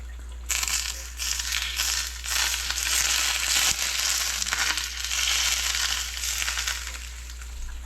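Moano fish frying in hot oil, a loud, steady crackling sizzle that starts abruptly and holds throughout, with a constant low hum underneath.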